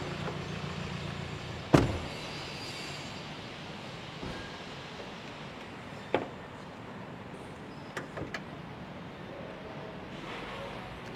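A Mercedes V-Class van door opens with a sharp clunk, followed by a few lighter clicks and latch knocks over a quiet, steady background hum.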